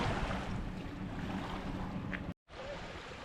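Choppy river water heard outdoors along a forest trail in March, a dense rushing wash mixed with strong wind buffeting the microphone, steady and loud with a brief dropout near the end.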